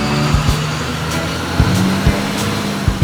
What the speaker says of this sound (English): What do you think of the bus, dude? I like how it sounds.